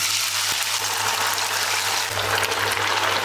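Potato pieces coated in corn flour frying in hot oil, a steady, dense sizzling hiss that carries on evenly from start to finish with no voices.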